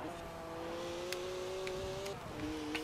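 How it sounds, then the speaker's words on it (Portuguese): BMW 1 Series M Coupe 2011 cars drifting in Forza Horizon 4, engines holding a steady high whine with a brief drop and shift in pitch, tires hissing faintly underneath at moderate level. "Ó, as BM aí querendo fazer drift."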